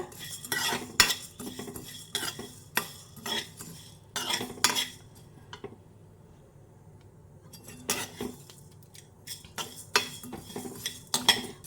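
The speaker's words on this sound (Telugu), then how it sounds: "ఆయిల్ వేయకూడదు వట్టి కళాయిలోనే వేపాలి" Coriander seeds and cumin dry roasting in a bare pan without oil, heard as bursts of rattling spoon scrapes and metallic clinks against the pan, separated by a quiet pause midway.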